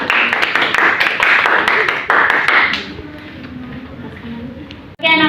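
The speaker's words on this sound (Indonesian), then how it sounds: "Boleh diberi tepuk tangan?" Classroom applause from students, a burst of clapping for about three seconds that fades out, then quieter murmuring and rustle with a sharp tapping near the end.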